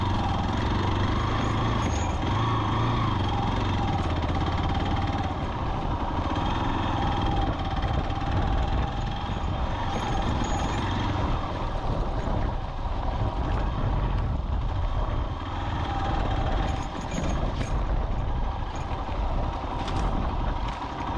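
Hero Xpulse 200 motorcycle ridden along a rough, unknown path, its engine droning steadily and close throughout with a constant broadband rumble of wind and terrain noise, no voices.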